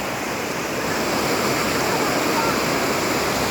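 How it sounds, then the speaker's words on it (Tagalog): A river at Lalabirtad flows with a steady, loud rush of water, a continuous broadband roar that stays even throughout, with faint voices of people bathing nearby. "Nandito kami ngayon sa ilog."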